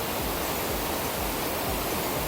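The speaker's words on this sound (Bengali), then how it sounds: "এখানে পানির জন্যে খুব খুব জোরে শব্দ হচ্ছে" Loud, dense, continuous roar of a rushing stream swollen by monsoon rain in Meghalaya, heard close up and steady throughout with no break.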